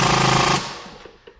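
An impact wrench rattles in a loud, rapid hammering burst for about half a second while tightening a bolt, then cuts off into fading mechanical clatter, close.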